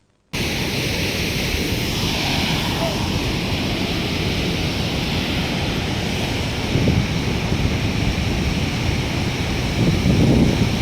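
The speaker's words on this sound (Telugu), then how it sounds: "ఇప్పుడు వాటర్ ఫ్లో కొంచెం తక్కువ ఉంది" Water pours steadily out of the partly opened Somasila dam gates during flooding, a broad, even roar with wind buffeting the microphone, continuous and fairly close with no break.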